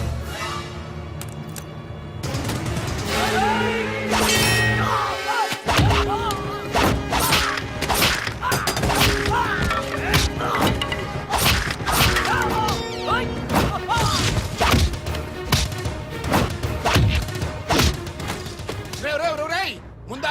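Car windows smashed during a Telugu comedy film scene, a run of loud crashes and thuds over dense music and effects, with voices and commotion throughout.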